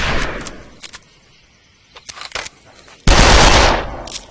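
Rifle fire in the World War One video game Darkest of Days: a few scattered sharp shots early on, then a loud, sustained burst of gunfire near the end, close and dominant.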